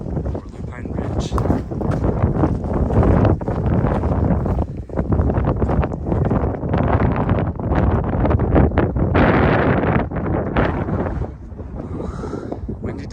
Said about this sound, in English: Windy day today, but it feels great.